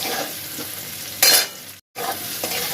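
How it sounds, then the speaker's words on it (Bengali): Pumpkin fries with a little salt in hot oil in a home kitchen, a steady close sizzle broken by a louder burst of stirring and a brief cut to silence before the frying resumes. "লবণটা দিয়ে কুমড়োটাকে আরেকটু ভাজা ভাজা করে নেব"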